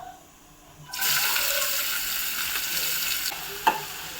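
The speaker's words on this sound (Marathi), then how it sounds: "कांदा मीडियम ते हाय फ्लेमवरती चांगला लाल होईपर्यंत फ्राय करून घ्यायचा आहे" Finely chopped onion hits hot oil with a bay leaf and cinnamon over a medium-high flame, erupting into a sudden loud sizzle that continues steadily, with a sharp stirring knock near the end.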